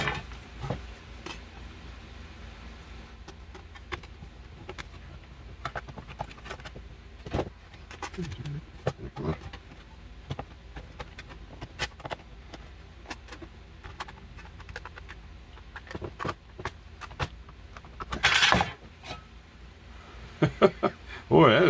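Thin sheet metal is cut toward the center for a homemade stove rain cap, giving a long run of scraping, clicking and tinny clatter. Louder metallic rattles break through near the end over a steady background hiss.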